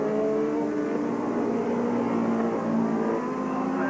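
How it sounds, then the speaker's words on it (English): F2 stock cars race around the Skegness Stadium oval during a 1984 meeting, their engines a steady, fairly distant roar that holds through the short stretch with no clear pass-by. "So Hudson, there he is, coming down the home straight, number 23, Smiler Hudson, Adrian Hudson"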